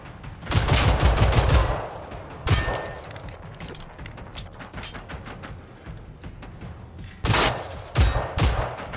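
Gunfire in the video game Generation Zero: loud bursts of rapid automatic fire at the start, then scattered single shots and quieter distant fire, closing with two more sharp bursts.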